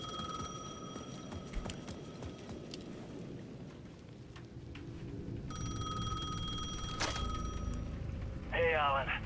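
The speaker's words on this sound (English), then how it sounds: "The payphone at the edge of the plaza was ringing again." A payphone at the edge of a plaza in the game Alan Wake II rings in repeated electronic bell bursts over soft rain ambience, with a brief voice near the end.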